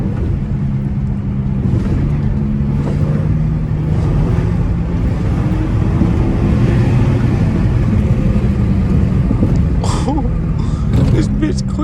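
A car with a 345 Hemi engine accelerates hard on an open road, a loud, steady engine roar building and sustained throughout, with short sharp noises near the end.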